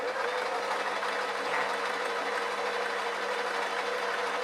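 Sewing machine running steadily while stitching a seam on a homemade pajama vest top, a continuous close mechanical whir with even texture and no pauses or voices.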